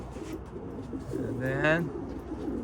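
White racing pigeons coo in a soft, low, throaty rolling call near the middle, fairly close, with a voice speaking briefly alongside.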